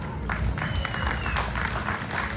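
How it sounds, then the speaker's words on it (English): Crowd at an outdoor union family day for LIUNA 183 claps and cheers in a steady wash of applause, fairly loud and continuous, with scattered voices mixed in. "Let's give them a big hand of applause."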